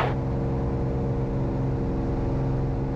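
Foxbat light aircraft engine running at full power for takeoff, a steady loud drone with strong low harmonics holding constant throughout.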